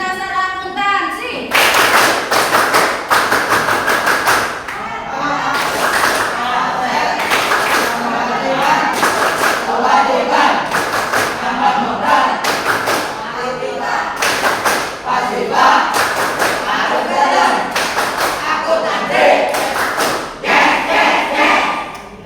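Students in an accounting class perform a rhythmic clapping chant about the basic accounting equation: loud, patterned bursts of hand claps and thumps with chanted voices, repeated in sections over about twenty seconds.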